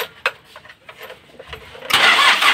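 A Mitsubishi 4D56 diesel engine, freshly worked on for a head gasket repair, gets cranked after a few faint clicks and fires into a loud, steady running roar near the end.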